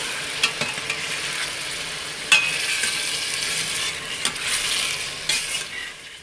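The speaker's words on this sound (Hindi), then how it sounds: "अब इसमें चिकन को अच्छी तरह भून लेंगे" Chicken pieces fried and stirred in a pan, with a continuous bright sizzle broken by several sharp scrapes and clinks of a spoon against the pan, close up.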